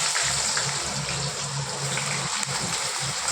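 Potatoes frying in hot oil give a steady, dense sizzle, loud and continuous throughout, with a low bubbling hum underneath and no talking.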